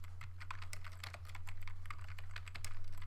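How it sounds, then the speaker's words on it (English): Fast, close typing on a computer keyboard while writing Inform 7 code, a dense run of crisp key clicks over a low steady electrical hum, with no talking. "So I'm going to type"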